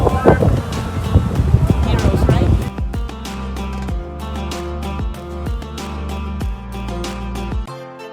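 Strong outdoor wind buffets the microphone hard in a park near a museum, a loud roaring rumble for the first few seconds that then drops to lighter gusty thumps, with a person talking over it.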